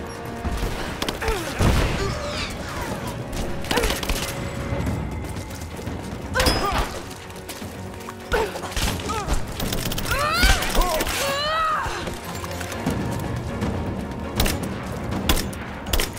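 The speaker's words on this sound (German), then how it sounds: "Ich will auch eine Granate werfen." Grenade blasts in Rise of the Tomb Raider boom loudly several times amid ongoing combat noise, with heavy thuds, debris and mechanical clatter spread through a busy, dense mix.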